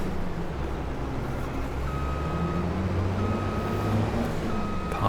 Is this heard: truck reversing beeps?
yes